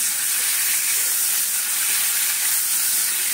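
Shrimp coated with salt and turmeric frying in a pan for a jackfruit dish, giving a loud, continuous hissing sizzle that holds steady throughout with no voices.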